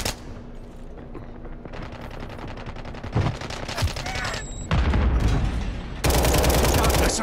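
Video game gunfire: a rattling stretch of rapid automatic shots over game ambience, followed by heavier, louder bursts of fire later on.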